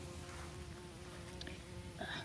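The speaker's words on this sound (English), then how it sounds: "Still got bees all over too, which is great." Bees buzzing around volunteer fruit plants in a garden, a faint steady hum with brief louder passes near the end, no talking.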